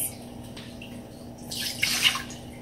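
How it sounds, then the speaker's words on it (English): Water splashes and gurgles briefly as it is poured into an Instant Pot, rising in the second half over a quiet background hum. "Adrielle, will you pour the water in?"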